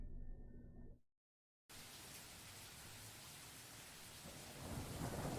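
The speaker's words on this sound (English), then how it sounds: "The sounds of rain falling, air moving rapidly, and thunder in the background assault my ears" Heavy rain pours steadily with a deep rumble of thunder underneath, briefly cut to silence before the downpour resumes and swells louder.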